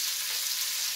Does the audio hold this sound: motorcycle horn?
no